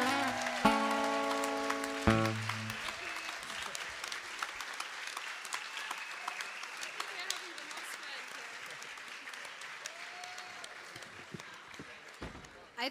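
Audience applause following a live acoustic performance at the UN Environment Assembly in Nairobi, a burst of clapping that opens under a last strummed chord and slowly fades, with cheers and voices in the crowd.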